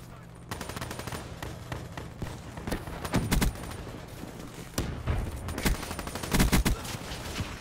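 Rapid automatic gunfire from a submachine gun rattles in bursts during a one-on-one video game gunfight, loud and close with repeated volleys and heavier impacts.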